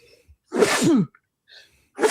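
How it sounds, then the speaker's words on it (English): A person lets out two sneezes close to the microphone, a loud full one followed by a quieter second, with brief gasping breaths around them. "They're silencing him with the sneezes"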